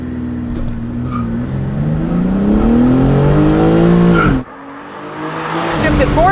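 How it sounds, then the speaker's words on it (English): A car launches hard in second gear with launch control engaged: the engine revs climb steadily with tire squeal, then drop sharply at an automatic upshift before building again, while someone talks inside. "So second gear, foot down the brake hard, foot down the gas hard, automatically turns on launch control"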